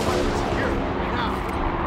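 Artillery shells firing in a video game, a dense continuous rumble of booming shots and blasts, loud and close throughout without a break.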